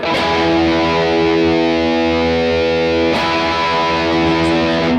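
Electric guitar through a Strymon Iridium amp modeller with heavy distortion, a sustained buzzing chord ringing out, then re-struck once partway through, loud and close with no talking.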